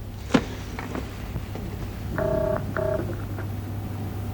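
Inside a phone box, a receiver is handled with a click, then a short series of dialing tones beeps in quick succession, close and moderately loud, with no talking.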